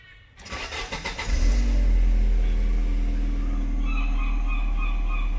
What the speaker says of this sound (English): let's get the engine started up